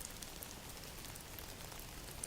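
Steady rain falling on a surface, a soft, even hiss with faint scattered drips and no voices, quiet and continuous throughout.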